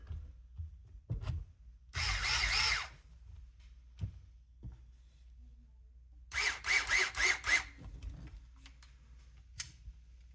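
Screws being driven into an RC10SC6.2 differential during a rebuild, heard as two longer bursts of drill-like whirring separated by small clicks and handling taps, fairly close and with no talking.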